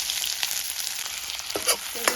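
Onion and green chilies fry in oil with panch phoron, a steady close sizzle with soft stirring scrapes and a couple of brief clinks from the pan, and nobody speaking.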